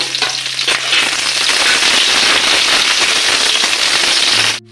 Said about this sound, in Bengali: কড়াতে 2টো তেজপাতা, 2টো শুকনো লঙ্কা, আর দেবো আমার কাটা পেঁয়াজ। এগুলোকে আমি আবার হালকা করে ভেজে নেব।